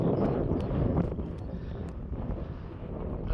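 Strong wind buffeting the microphone on an open hilltop beside an ancient barrow, a loud, continuous low rumble with gusty surges and a few sharp crackles.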